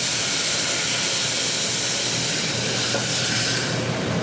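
Cabernet wine poured into a hot pan of caramelized shallots, giving a loud, steady, close hiss and sizzle for a few seconds.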